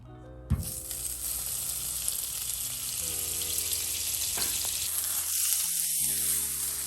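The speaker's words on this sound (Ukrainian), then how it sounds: "Візьмемо шматочок масла вершкового і додамо сюди." A loud sizzle bursts out as butter hits a hot frying pan, then steady frying crackle continues with faint clinks and ringing tones.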